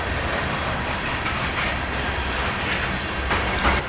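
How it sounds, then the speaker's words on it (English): A long, slow freight train rolls past near the Eagle Rock lime kilns in Virginia, a close, continuous rumble of wheels and railcars with faint clatter and brief squeals, with no voices. "That was a long, slow train."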